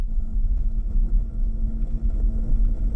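Renault Arkana E-Tech hybrid's combustion engine idling after restarting, a low steady rumble with a faint hum, heard alone at moderate level outdoors in green surroundings.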